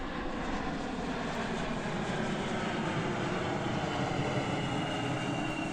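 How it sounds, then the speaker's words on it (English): An Alaska Airlines plane flying overhead, its broad engine roar sustained and fairly distant, holding steady across the whole stretch without speech. "So now we got a plane flying over. I think it's an Alaska Airlines."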